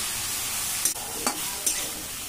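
A paste of bay leaf, cumin and seven or eight dried chillies frying in a pan for an ilish fish curry: a dense, even sizzle with three brief spoon scrapes, close by.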